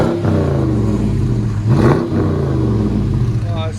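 A 2020 Dodge Charger Daytona with a 6.4L HEMI V8, dual exhaust and rear resonator delete, idles with a deep rumble and then revs up sharply once in the middle before settling back down, loud and close.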